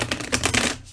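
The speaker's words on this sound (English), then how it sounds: "So we are going to shuffle your cards on camera." Tarot cards being shuffled by hand, a quick burst of crisp riffling and tapping clicks, close and fairly loud, with no talking.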